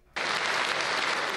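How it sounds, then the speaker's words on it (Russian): Deputies in a parliament chamber break into loud, sustained applause after a presidential address, a dense even wash of clapping that starts abruptly and holds steady to the end. "Полуторачасовое выступление президента депутаты неоднократно прерывали аплодисментами."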